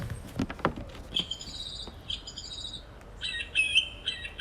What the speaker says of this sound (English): It's a thrush.